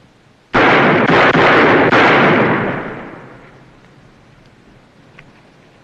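Gunfire in a western TV episode: a loud volley of several rapid shots close together, then a long echoing roll that fades over a few seconds into quiet.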